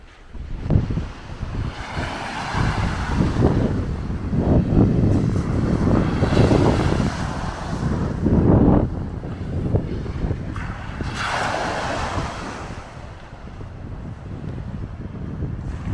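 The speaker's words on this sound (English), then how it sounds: "but the waves are still coming in." Waves roll in and break in a sheltered cove while gusty wind buffets the microphone, a continuous rushing roar that swells and eases over time.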